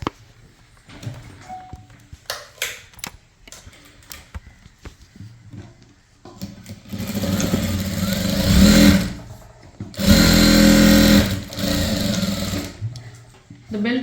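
Electric sewing machine stitching a chudithar pant, running in two long loud bursts after a stretch of scattered handling taps and fabric shuffling, the motor whirring steadily close by.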